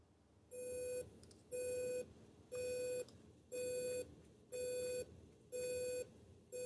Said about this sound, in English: plug it in, upload the code, and confirm our new data tone